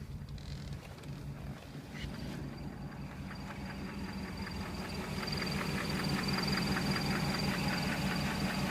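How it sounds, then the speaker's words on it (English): A steady low engine hum with faint rhythmic knocking from a cold-running 1960 Bentley S2 long-wheelbase limousine, growing slightly louder toward the end; no talking. "So I hear a little bit of engine noise, not much."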